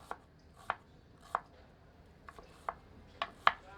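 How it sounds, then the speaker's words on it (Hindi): A knife finely chopping a medium onion on a board, with seven or so distinct sharp cuts in an uneven rhythm, close and clear with no talking. "एक मध्यम आकार की प्याज को बारीक काट लेते हैं।"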